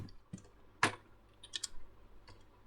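Someone types a CMD command on a computer keyboard, a few sparse, close key clicks spread out with short gaps in a quiet room.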